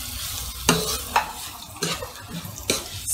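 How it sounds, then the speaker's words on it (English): Liver with onions and curry leaves stir-fried in a pan over high heat, with several distinct scraping strokes of a spatula over a continuous sizzle, close and clear. "Stir fry this well."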